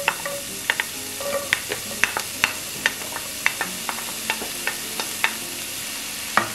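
Garlic and onion sizzle in cooking oil in a pan over low heat, a steady close crackle broken by sharp clicks and taps from stirring throughout.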